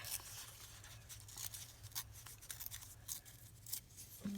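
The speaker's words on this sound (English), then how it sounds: "Go ahead and tear around that square." Paper is torn by hand around a square in a junk-journal craft, a series of short, soft ripping and crinkling sounds close by over a low steady hum, with no talking.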